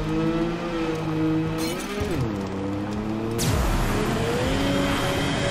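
A car driven in the video game Borderlands 3, its engine revving up and down through several gear shifts with rising and falling pitch, loud and continuous, with a tire-skid-like burst midway.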